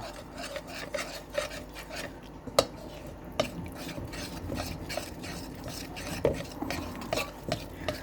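A spoon scrapes and stirs a thick melted Mars bar chocolate mixture in a pot, with repeated rasping strokes and occasional sharp clicks against the side, close and moderately quiet.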